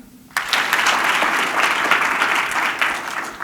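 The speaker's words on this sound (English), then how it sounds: "can you please clap for me?" A live audience at a TEDx talk in Raleigh breaks into a sudden burst of steady, dense applause, clapping loudly and continuously after a quiet start with no talking.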